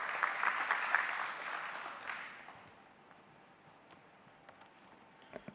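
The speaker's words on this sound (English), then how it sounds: "A nice round of applause, ladies and gentlemen, for Mr. Ashish Kumar Chauhan." An audience applauds a man, Mr. Ashish Kumar Chauhan, at a company stock listing ceremony; dense clapping is fairly loud for about two seconds, then thins and fades to scattered claps and room noise.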